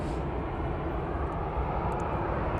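Eurowings airplane at Cologne Bonn Airport, a steady broadband engine roar holding constant and fairly close throughout with no talking.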